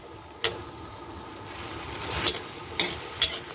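Chopped fermented fish paste with herbs dry-roasts in a pan over a steady low sizzle, with four sharp utensil scrapes spaced unevenly against the pan.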